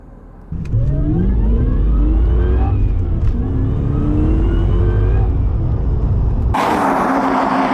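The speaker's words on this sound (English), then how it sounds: "dial up between 13 and 1400-ish revs and then slowly feed the clutch out as you take off" Ford Falcon car launching hard from a standstill with traction control off, its engine loud and close as it revs climb steadily through the gears, a brief gearshift break partway, ending in a roaring surge.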